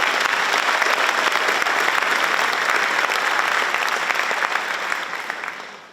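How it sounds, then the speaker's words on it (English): Sustained applause from an audience at a school centennial celebration honoring faculty, dense and steady clapping that fills the room before tapering off at the end. "Let's give them a round of applause."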